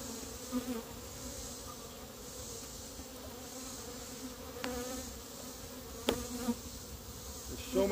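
Honeybees in an open hive being worked with a smoker hum steadily in a dense, low buzz, with a few louder individual bees passing close now and then; no talking.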